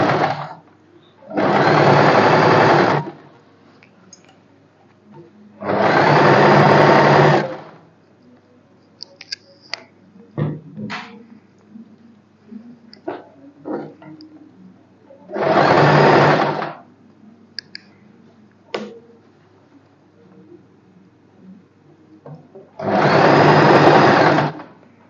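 A sewing machine runs four separate bursts of stitching on a boatneck blouse with puff sleeves, each burst lasting a second or two, with quiet handling clicks and rustles of fabric in between.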